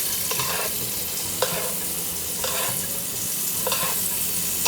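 A whole mutton leg fries in a deep pan of hot oil while a ladle repeatedly scoops and pours oil over it, a constant loud sizzle punctuated by regular splashing surges roughly every second.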